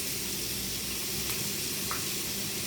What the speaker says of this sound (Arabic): في نفس الطاسة هننزل بالبصل